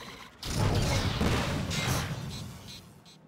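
An explosion in the video game Atlas Reactor erupts as a heavy boom with a rumbling, crackling tail that fades over a few seconds.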